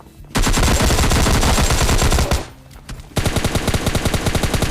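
Rapid automatic gunfire in the video game PUBG Lite, loud and close, with a sustained burst, a short lull, then another stream of quick shots.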